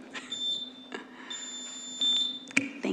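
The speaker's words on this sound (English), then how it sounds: "When it's finished, you'll hear a whole bunch of beeps," A council chamber microphone countdown timer gives off a string of sharp electronic beeps, steady tones and clipped bleeps that repeat over a few seconds, clear and fairly quiet in a hushed room.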